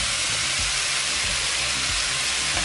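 Cooked rice goes into a pan of loudly frying vegetables, with a dense, continuous sizzle and hiss and a few soft thumps and scrapes underneath.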